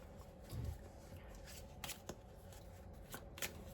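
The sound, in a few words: shuffling Andean Healing Energy oracle cards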